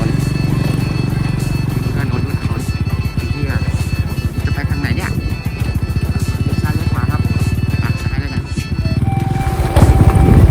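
A motorcycle rides over a rough, uneven road. Its engine drones in a loud, continuous pulsing beat close by for the whole stretch.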